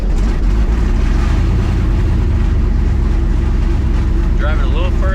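A 1,000 HP twin turbo El Camino on its first drive gives a loud, steady low engine drone that sounds close and sustained, with some brief higher tonal noise near the end.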